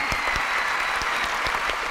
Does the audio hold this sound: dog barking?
no